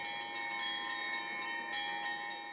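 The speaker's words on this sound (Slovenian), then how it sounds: "Tako je bilo slišati starodavni zvon v cerkvi Marije Zdravja." Ancient church bell of the Church of Mary of Health in Piran rings with a steady, sustained metallic tone, its overlapping resonant partials hanging continuously with faint pulses of fresh strikes, heard alone without voices.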